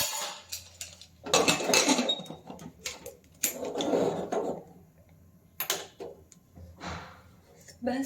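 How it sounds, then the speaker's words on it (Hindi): Pots, pans and a pressure cooker lid clatter and scrape as someone rummages through a kitchen, with irregular metallic clanks and knocks in bursts separated by short pauses. "ढूंढते रहो कहाँ रखा है कुकर का ढक्कन"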